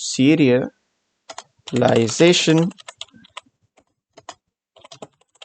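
Typing on a computer keyboard while writing Python code, heard as scattered light clicks and short bursts after a person speaks at the start, with more voice midway and soft keystrokes trailing off.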